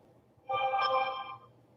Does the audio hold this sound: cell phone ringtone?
yes